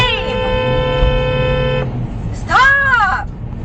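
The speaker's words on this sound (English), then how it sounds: "Honk, babe, honk!" A car horn sounds close and loud, first in one long steady blast, then again in a shorter honk after a brief gap, with people speaking around it.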